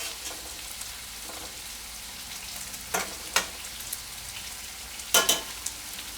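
Venison searing in a pan on a wood stove, a steady low sizzle with a few sharp crackles and pops, heard close and alone.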